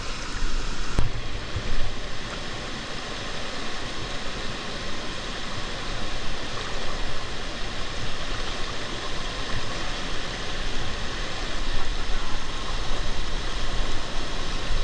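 River current at Ditumabo Mother Falls in San Luis, Aurora, a steady loud rush of flowing water that fills the whole stretch, close and unbroken, with no talking.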